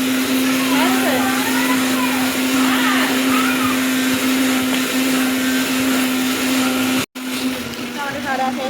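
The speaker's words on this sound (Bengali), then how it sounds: "মা মিক্সি করছে ওখানে মশলা মিক্সারে" Spices being ground in an electric mixer grinder, a loud steady motor whine that cuts off abruptly, then starts again. Voices of children and adults are heard over it.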